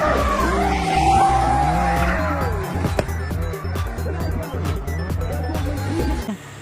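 A white toy race car performs a stunt, its small motor whirring steadily with skidding, squealing bursts throughout, fairly loud and close, with children's voices faintly present.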